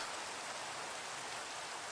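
Steady Minecraft rainfall, a soft, even hiss of falling rain with no breaks and no voices.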